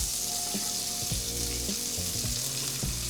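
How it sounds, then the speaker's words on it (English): Shallot hits butter in a pan over low heat, giving a soft, continuous sizzle close up, with a few light clinks and taps from a utensil and no speech. "got our 1 tablespoon of butter. Oh, like turn the heat on. Keep it on pretty low. You're gonna add your shallot."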